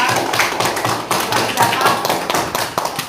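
Hands clap in a classroom during a computational thinking lesson, a run of sharp, fairly close claps with an uneven rhythm and voices murmuring underneath.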